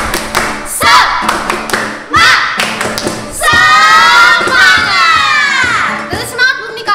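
Children at a Sunday school service perform the tepuk semangat clapping chant, with rhythmic clapping, thumps and shouted, sung voices in a lively group, loud and close.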